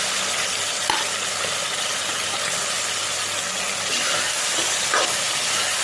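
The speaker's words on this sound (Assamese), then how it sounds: "আৰু এতিয়া মাংসখিনি মই ধুনীয়াকৈ অলপ টান হোৱালৈকে ভাজি থাকিম" Broiler chicken meat frying in a pan after cooked-down tomatoes, giving a steady, loud, broadband sizzle with faint clinks and scrapes, close by and without talk.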